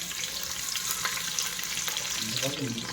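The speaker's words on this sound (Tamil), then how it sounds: "அதனால் நல்லா வெங்காயத்தை நல்லா ஃப்ரை பண்ணுறோம் ப்ரௌனாக வர வரைக்கும்" Cut onions fry in oil with cardamom for chicken biryani, giving a continuous close sizzle with scattered stirring scrapes and a faint low hum in the background; nobody speaks.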